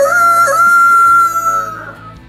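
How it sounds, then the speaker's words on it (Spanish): A rooster crows once, close and loud, its long cock-a-doodle-doo call trailing off over about two seconds. "y enseguida cantó un gallo"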